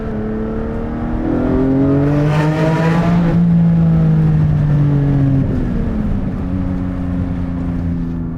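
Porsche 718 Spyder fitted with a new Akrapovic exhaust, driving through an overpass: a loud, close engine note rising and falling with revs, steady throughout with no talk.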